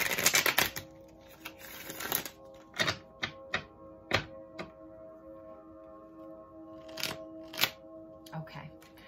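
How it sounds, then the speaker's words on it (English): A deck of tarot cards being shuffled in several quick bursts of riffling and flicking snaps, separated by pauses, with faint speech in the background. "I'm going to give it a quick shuffle"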